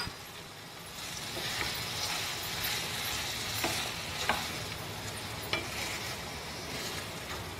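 Tomatoes frying in a pan for ridge gourd chutney make a steady, close sizzle with a few soft clicks of stirring, with no talking over it.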